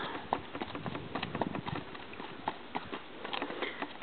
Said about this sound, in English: Gonna take her down and lope her back up through here?